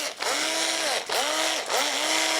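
A small cordless drill with a worn-out nickel-cadmium battery whirs loudly in three bursts, each briefly slowing and then spinning back up to a steady high-pitched whine.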